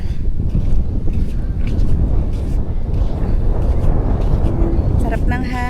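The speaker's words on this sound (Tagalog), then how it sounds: "Sarap ng hangin." Steady wind buffets the microphone in a continuous low roar at a Boracay resort, with faint voices and a brief tonal sound near the end.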